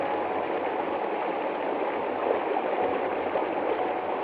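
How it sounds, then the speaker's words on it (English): Gentle sea waves break on a shore in the night air, making a steady, continuous wash of water noise at an even level with no pauses and no voices. "As you listen to the sound of the waves gently breaking upon the shore"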